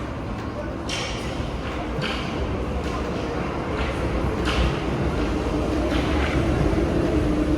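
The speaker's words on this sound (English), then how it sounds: "So just sit tight and wait for the train to pull up." A Paris Metro train arrives at a station platform, a steady loud rumble with a few repeated metallic clanks and hisses running throughout, no speech over it.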